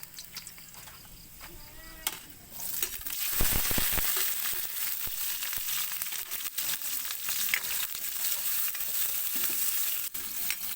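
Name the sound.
garlic frying in a pan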